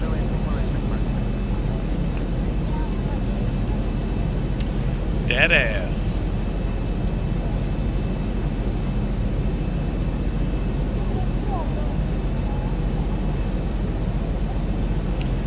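Zibo 737 airliner landing in the X-Plane 11 flight simulator on runway 24 right with a strong crosswind, a steady broad engine and wind roar holding level throughout, with a brief chime or callout tone near the middle.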